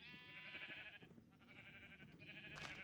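Minecraft sheep bleating in a survival-mode sheep pen, several overlapping wavering bleats running almost continuously, close and fairly loud, with no talking.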